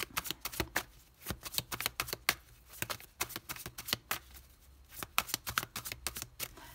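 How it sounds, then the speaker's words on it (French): Tarot cards being shuffled and laid out in quick, crisp riffles and slaps, a close, steady run of papery flicks with short pauses between bursts. "Et on va poser les 6 cartes de ce tarot."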